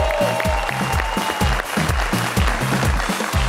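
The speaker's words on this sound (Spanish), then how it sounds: "quiero brindar un fuerte aplauso para ambas familias" Studio audience on a family game show applauds both competing families, clapping loudly and steadily for several seconds with a low rhythmic music beat pulsing underneath.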